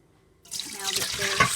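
Salted cucumbers in brine are poured into a strainer over a sink, a sudden steady rush of splashing water and draining liquid, close and continuous.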